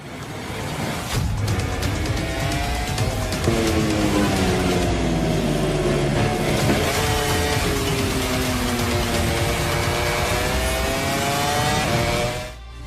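Racing motorcycle engines in MotoGP 24, a loud continuous high-revving whine with rising and falling pitch as the bikes shift gears and accelerate, sustained for the whole stretch before cutting off.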